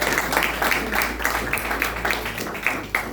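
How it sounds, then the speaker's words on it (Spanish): After a lecture, an audience breaks into applause, individual claps distinct and moderately loud in a room, with some voices mixed in. "yo sugiero un aplauso enorme para Leonardo."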